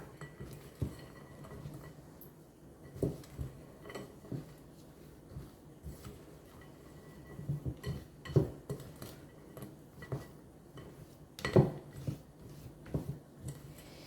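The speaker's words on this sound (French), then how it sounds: "on va les mélanger avec la pâte" Large chocolate chunks being folded into cookie dough in a bowl, with soft scraping and occasional clinks of a utensil against the bowl, close and quiet with no talking.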